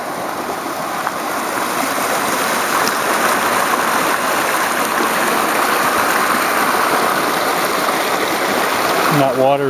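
A stream about 2.5 to 3 feet deep rushes steadily under a small bridge in a continuous broadband wash of flowing water, loud and close, with no pauses.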